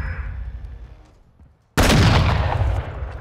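Gunfire in the MechWarrior game MWLL, a sudden loud burst of heavy weapon fire that hits after a quiet stretch of low rumble and keeps roaring close up for over a second.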